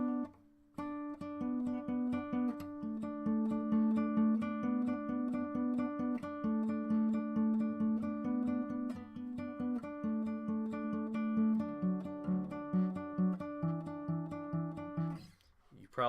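A solo acoustic guitar plays the chord progression from the middle solo of a song, with steady plucked notes ringing close and clear and no voice over them.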